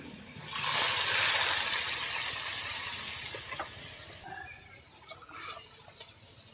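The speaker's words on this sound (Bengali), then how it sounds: "এই বাটির এক বাটি চিনি দিয়েছি এই বাটির এক বাটি জল নেব এক বাটি জল" Water poured from a bowl into sugar in a pan for sugar syrup for Bengali goja makes a close, splashing pour lasting a few seconds, then fades into quieter handling sounds.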